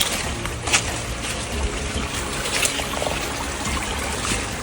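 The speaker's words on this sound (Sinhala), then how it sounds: "තවත් දොළ පාරක්." A small forest stream trickles along beside a path near an old power station, with a continuous close gurgling wash of running water and occasional brighter splashes, heard with no voices.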